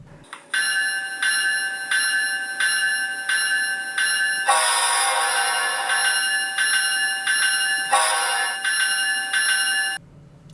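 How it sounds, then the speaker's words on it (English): On an HO scale ScaleTrains GE ET44AC locomotive model, the regular bell and the auto eBell ring over each other, a rapid, loud metallic clanging that repeats evenly and briefly thickens into a denser overlapping ring before cutting off. "the regular bell and the auto eBell will cause an overlap"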